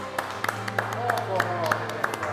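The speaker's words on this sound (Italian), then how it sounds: "Un applauso alla..." Audience applause at a local gathering comes as scattered, sparse claps, each one crisp, heard beneath a voice speaking over them.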